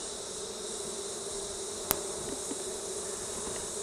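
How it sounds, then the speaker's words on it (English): Honey bees buzzing in flow hive frames with brood in them, a dense continuous hum of many insects up close, with one brief sharp click partway through. "So you've still got a whole lot of bees here"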